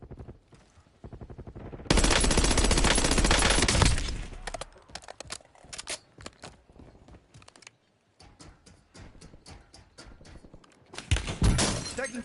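Call of Duty: Warzone gunfire erupts in a loud, dense burst of automatic fire with shattering impacts, then breaks into scattered rapid shots and clicks across several seconds before another heavy burst near the end.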